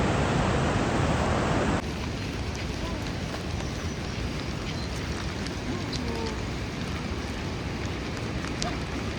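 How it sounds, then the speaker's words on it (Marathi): A fast-flowing river swollen by heavy rain roars as a loud continuous broadband rush, heavier for the first couple of seconds then settling into a steady torrent. "किती डेंजर आवाज येतोय नदीचा"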